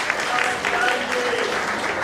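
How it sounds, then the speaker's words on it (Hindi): An audience at a panchkalyanak religious ceremony applauds together, giving a dense, steady wash of clapping for the whole two seconds, moderately loud and uninterrupted. "आप सब लोग एक स्वर से इसकी ताली बजा के घोषणा करें कि ये चीज यहाँ होना चाहिए।"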